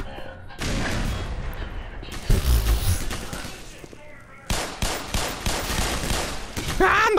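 Grenade blasts and gunfire in the video game Black Mesa: several loud, booming explosions mixed with bursts of rapid shooting, with short quieter gaps in between.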